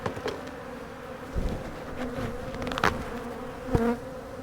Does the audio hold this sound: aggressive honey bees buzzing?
yes